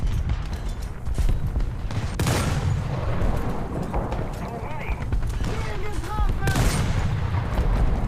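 Bursts of machine gun fire against infantry in War Thunder's Great War April Fools event, rapid crackling volleys rolling continuously over dense battlefield noise, with a few sharper booms and no talk.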